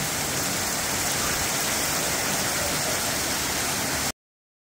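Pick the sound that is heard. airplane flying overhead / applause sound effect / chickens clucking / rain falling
rain falling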